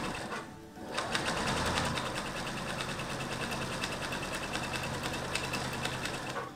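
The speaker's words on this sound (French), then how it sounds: "C'est juste pour aider la machine, en fait, à coudre mon jersey." A domestic sewing machine stitches jersey fabric in a steady, fast mechanical whir, close and continuous after a brief start.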